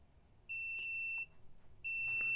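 A digital multimeter gives two sharp, clear continuity beeps as its test leads touch, each a steady high tone of about a second with a short gap between, close and alone in a quiet room.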